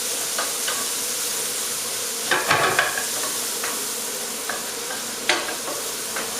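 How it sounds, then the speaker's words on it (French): Already-cooked shrimp sizzle in butter in a pan, a steady close frying hiss broken by occasional stirring scrapes and a few louder spatters, no talking. "on les passe juste au beurre"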